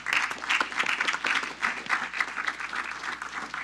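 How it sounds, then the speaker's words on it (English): Audience at a city council meeting applauds, a dense, continuous patter of many hands clapping at moderate volume with small swells, running throughout without speech. "Let's give them a round of applause."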